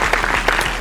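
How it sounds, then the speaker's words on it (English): Applause sound effect, a dense burst of clapping that holds steady at moderate loudness for under a second before cutting off sharply. "Clap it up."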